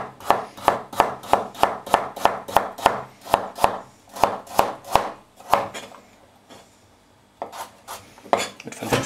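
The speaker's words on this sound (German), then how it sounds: "Ich schneide die hier so leicht schräg an." A knife slices carrots on a diagonal against a cutting board in a kitchen, giving a steady run of crisp close chops, a short pause, then a few more cuts.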